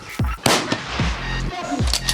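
Rifle shots ring out at a sniper shooting competition, the Russian Sniping Cup stage. Several sharp, loud cracks come in irregular succession, each followed by a short echoing tail, with faint background noise between them.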